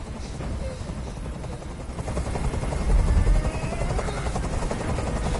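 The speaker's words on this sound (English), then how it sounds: "Tell that helicopter to get out of here." A video game helicopter hovers close by, its rotor thumping in a steady rapid pulse with a whining engine, growing slightly louder midway.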